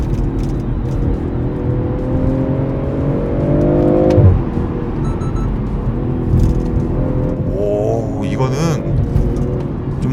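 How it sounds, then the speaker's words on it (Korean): BMW M340i in Sport Plus mode accelerating hard at high RPM, engine note climbing steadily for several seconds before a brief shift and renewed pull, loud and close from inside the cabin, with someone talking over it. "스포츠 플러스입니다. 와, 이렇게 거의 높은 RPM 갔을 때 차가"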